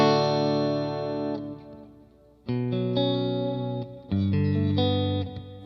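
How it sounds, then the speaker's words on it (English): A Strymon guitar delay pedal in studio mode on a pedalboard, set to a standard delay: sustained clean guitar chords in three strummed phrases, each ringing out with smooth repeats and a soft ambient tail, no voices. "Right now, I just kind of have it set up as a pretty standard delay."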